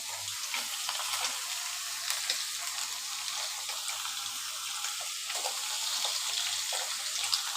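Bottle gourd and potato cooking with salt and turmeric in a pan, stirred steadily, giving a continuous soft sizzle with faint scraping, close and even throughout.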